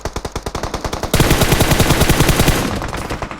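Automatic gunfire in PUBG Mobile, a loud close burst of rapid rhythmic shots that slows to spaced rounds and then runs into a dense, continuous volley.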